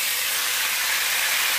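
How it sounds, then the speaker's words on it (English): Continuous, even sizzling hiss of pork frying in a hot pan, close and loud with no pauses. "That's sizzling nicely."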